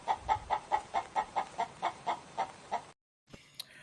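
A person imitates a chicken with about a dozen rapid, evenly spaced clucks in a steady rhythm, close and clear, followed by a brief pause and a faint clatter.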